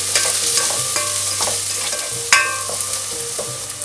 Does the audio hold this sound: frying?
yes